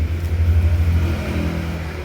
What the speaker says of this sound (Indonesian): bentar ada motor teman-teman.